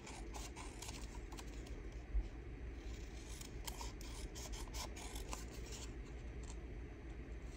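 Paper scraps for junk-journal tickets and ephemera being cut out with scissors, a steady run of soft close snips and rustling paper, faint and continuous over a quiet room hum.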